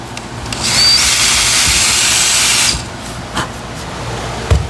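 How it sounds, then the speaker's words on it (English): A power drill bores a tiny hole in wood, a loud close whirring burst lasting about two seconds, then spinning down to background hiss broken by a few small knocks and handling noises. "We're gonna drill a tiny hole in that point."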